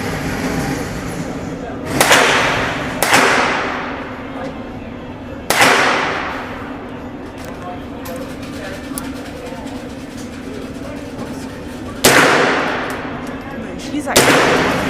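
Gunshots crack at an indoor gun range in the UK, four or five sharp loud reports spaced a few seconds apart, each with a short echoing decay, over a steady background hum.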